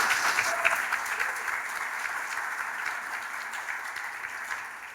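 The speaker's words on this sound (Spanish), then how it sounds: "Den un aplauso al Señor por él" Steady applause from a church congregation honoring the Lord, a dense, even patter of many hands clapping close by for the full length, with no voices over it.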